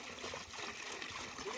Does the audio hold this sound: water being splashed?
yes